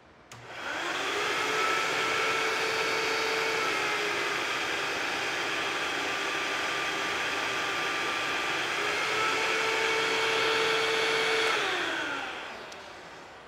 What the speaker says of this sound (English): causing the vacuum cleaner to operate at a lower speed and the light to dim because it's running at lower voltage